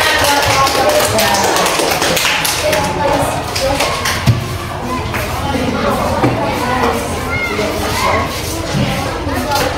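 Classroom of students clapping for a group, a loud dense patter of hands mixed with children's chatter and a few thumps throughout.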